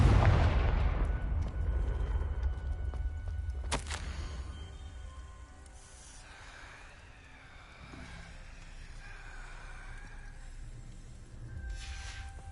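A Confringo spell explosion in Hogwarts Legacy hits with a heavy boom at the start, then a sharp crack a few seconds later, before a long rumbling decay and a low, steady ambient hum.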